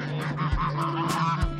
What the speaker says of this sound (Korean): 오지랖 넓은 거위들은 새로운 친구의 등장에 경계가 아주 심하다